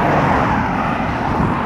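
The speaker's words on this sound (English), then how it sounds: "you can see some of the planes taking off and landing here as well" An airplane near Grantley Adams International Airport in Barbados, a loud, steady broadband engine roar with a deep low rumble that holds constant through the whole short stretch.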